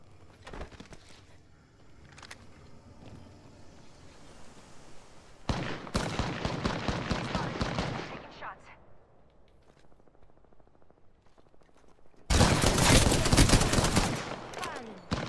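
Automatic gunfire in the Apex Legends shooter game rips out in two loud, dense bursts lasting a few seconds each, separated by quieter game ambience and faint clicks.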